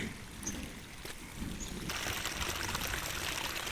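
Rain-filled lake overflowing at its spillway, a steady broadband rush of flowing water that swells and thickens midway, continuous and fairly close with no voices.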